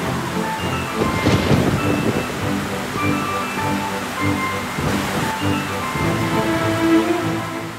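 Strong wind gusts roar through the outdoors after rain, a loud, continuous rushing with rising surges, heavy and close throughout.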